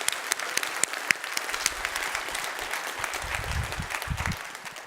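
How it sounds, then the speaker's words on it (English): Audience applause in a keynote hall, a steady wash of many hands clapping for several seconds, moderately loud and fairly close, with no talk over it. "Please give Max and the JetBrains folks a round of applause."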